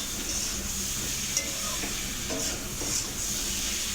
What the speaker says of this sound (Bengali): আবার একটু নাড়িয়ে চাড়িয়ে নিলাম।